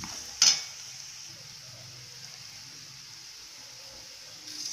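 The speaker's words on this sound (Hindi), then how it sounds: "इसमें डालेंगे 1 चम्मच अमचूर पाउडर और इसे अच्छे से चला लेंगे।" Potato masala with amchur powder frying in a pan gives a soft, low sizzle, with one sharp metallic clink of the spoon near the start and faint stirring scrapes afterward; no talking.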